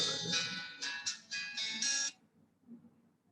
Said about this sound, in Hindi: ये एक तो मेरा फोन बज गया